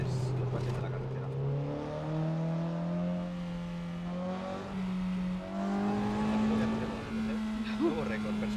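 Simulated car engine in Assetto Corsa on the Okutama Touge mountain road, revving high with a steadily rising tone that climbs toward the rev limiter, loud and continuous, with a voice talking over it.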